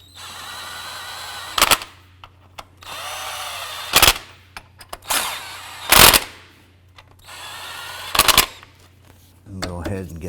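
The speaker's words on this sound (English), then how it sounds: "we're going to go ahead and snug these 4 bolts down" Engine mount bolts on a 2012-17 Toyota Camry being snugged down with a power tool, several short loud bursts of whirring and ratcheting separated by quiet gaps, close by, with someone speaking in between.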